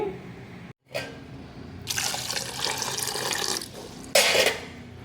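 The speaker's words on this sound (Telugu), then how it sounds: "ఈ వాటర్ని వంపేసుకొని శుభ్రంగా రెండు మూడు సార్లు బాగా కడుగ కడగాలి" Water splashes and gushes in bursts, swirling in a container as taro roots are rinsed, with brief pauses between pours, close by and fairly loud.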